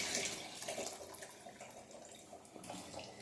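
A kitchen tap runs while daliya is rinsed, making a soft, steady rush of water with light splashing from nearby, and no one speaks.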